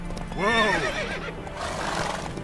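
Roach, a horse in The Witcher 3, lets out a loud, close whinny with a rising-then-falling harmonic cry, followed by softer breathy snorting and faint hoof movement.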